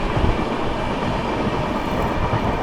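Steady, loud train rumble with broadband rolling noise throughout, heard from aboard an express train running through Etawah Junction without stopping; no talk.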